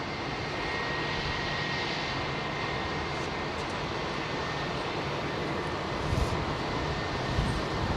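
Steady, loud roar of an aircraft engine at London Heathrow Airport on New Year's Day, a continuous broadband rumble that holds for the whole stretch with no talk.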